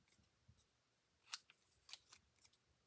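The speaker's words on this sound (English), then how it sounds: "I don't usually cut cardstock with paper snips, unless it's a little thing like that" Paper snips cutting a small piece of cardstock for a handmade swing card, giving a few sharp, close snipping clicks spaced irregularly over a quiet background, with no talking.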